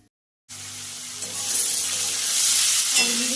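Potatoes frying with spices stirred in, a loud hiss bursting in after a brief silence and building into a steady, close sizzle with stirring.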